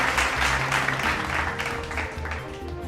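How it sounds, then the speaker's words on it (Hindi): A studio audience claps to welcome a guest on a television news show, a moderate patter of hands that continues under low background music throughout the short stretch. "तालियों से स्वागत की जाए।"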